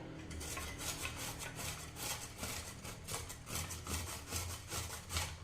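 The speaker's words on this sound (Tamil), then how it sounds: "இதை வந்து நம்ம இப்போ துருவி எடுத்துக்கலாங்க" Peeled ridge gourd is rubbed against a kitchen grater in a quick, regular scraping rhythm of close, raspy strokes with no speech.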